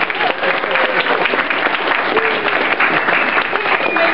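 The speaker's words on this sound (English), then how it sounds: "Give a round of applause again, guys." A crowd at a furry convention game show bursts into sustained applause, loud and continuous, with a few voices cheering faintly underneath.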